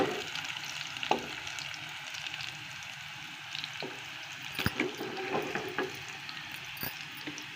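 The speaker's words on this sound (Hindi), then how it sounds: "हरी मिर्चें शामिल करने के बाद हम इसको करेंगे अच्छी तरह से मिक्स।" Green chillies fried on a low flame and stirred, a soft, quiet sizzle with scattered light scrapes and taps of a spoon against the pan, no speech.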